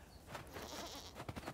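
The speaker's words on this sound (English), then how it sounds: "Little baby goats!" Baby goats in a video game give a short bleat over a dense game soundscape, fairly faint and brief, with no talk.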